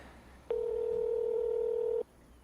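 Telephone in Farming Simulator 25 giving a single steady electronic tone for about one and a half seconds, clear and alone over a quiet background.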